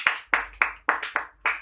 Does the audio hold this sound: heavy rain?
no